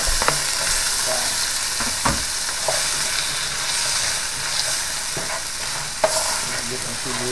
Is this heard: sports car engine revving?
no